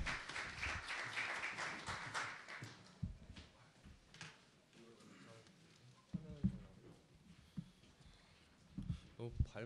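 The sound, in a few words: audience applause welcoming a speaker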